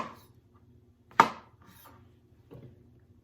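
A knife cuts through a vegetable stem while lentil picadillo is being prepared, giving one sharp, close chop against a board followed by a softer second cut, with near silence around them.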